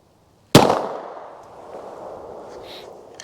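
A single sharp 9mm shot from a P80 pistol cracks loudly and close after a moment of silence, then rings off in a long fading echo.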